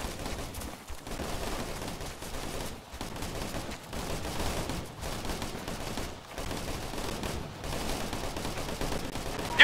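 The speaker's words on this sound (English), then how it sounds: "We're getting shot at." Sustained gunfire in Operation Flashpoint: Red River, with dense rattling bursts of rifle and machine-gun fire and brief pauses, fairly steady and moderately distant, with no talking.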